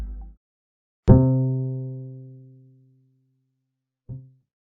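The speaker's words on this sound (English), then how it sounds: "here's the sound of a bass." A single deep bass note rings out and slowly fades over a couple of seconds, followed by a brief, quieter low note; otherwise silent.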